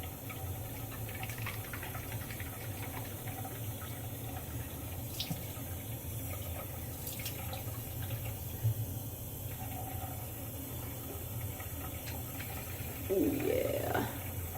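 Warm, tepid water poured a quarter cup at a time into a homemade hair treatment mixture makes a faint, steady trickle and splash over a constant low background hum.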